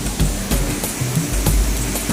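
Roar of the Thoomanam waterfall at Akamala in the forest, a broad rushing wash of falling water with faint thuds, close and loud, no voices.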